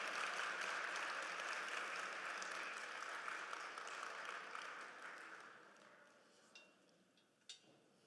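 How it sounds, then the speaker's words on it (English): Applause from a ceremony audience at a stamp dedication event for Judge Constance Baker Motley, as a Newark Central High School student is honoured; steady, dense clapping fills most of the stretch, then fades, with a couple of isolated claps at the end. "Give Ayomide a round of applause."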